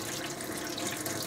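A hot water tap runs steadily in a 2002 Ace Jubilee Statesman four-berth touring caravan, a continuous close splashing rush of water into the sink, even in level, with no voices.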